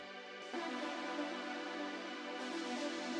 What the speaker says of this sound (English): this pad sound, which I've just got panning slightly left to right with some tremolo